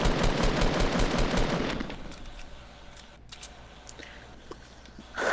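Rapid automatic gunfire in Fortnite, loud and dense at first, then thinning to scattered distant shots and clicks before a final burst.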